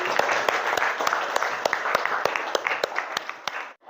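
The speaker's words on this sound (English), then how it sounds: "Applause for Bima." A classroom of students claps together, a dense flurry of hand claps with some sharper, louder individual claps standing out, lasting about four seconds before stopping abruptly.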